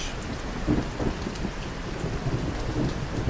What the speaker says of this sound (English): You can hear that thunder